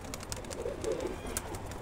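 A Kagzi pigeon gives a brief, soft, low coo near the middle of a short, quiet moment, faint against background hiss.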